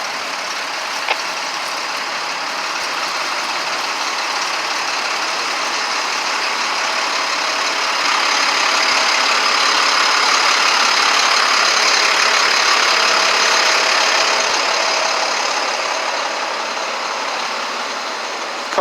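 Snow plow trucks idle in a line, a steady, close diesel rumble and hum that swells slightly in the middle and continues without break for the whole stretch, with no talk.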